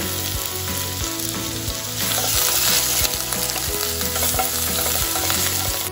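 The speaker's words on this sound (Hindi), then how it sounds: "फिर हम इसमें ऐड करेंगे जिंजर, उसके बाद हम इसमें ऐड करेंगे गार्लिक, और इसको थोड़ा सा चला देंगे।" Ginger and garlic fry in hot oil with a loud, continuous sizzle, broken by repeated rhythmic scrapes of a spoon stirring the pan. It grows a little louder partway through, with no voices.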